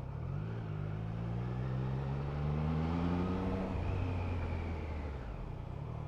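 A 2023 Triumph Trident 660 three-cylinder motorcycle engine winds down under engine braking while riding, a steady close hum whose pitch glides lower with continuous road and wind rumble beneath.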